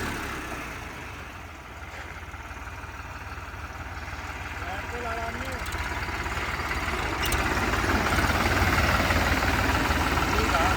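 A low, rumbling engine of a New Holland 3630 tractor slowly revving up and growing louder, with indistinct voices faintly underneath.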